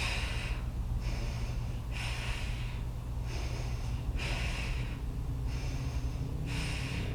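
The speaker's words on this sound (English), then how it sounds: "So every time you breathe out of your mouth, pulsing your hands down." Forceful, pulsed mouth exhales during a Pilates ab exercise, roughly seven evenly spaced breathy bursts over a low steady hum, close and fairly loud, with no talking.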